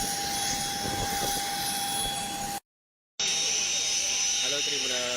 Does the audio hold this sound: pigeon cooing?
no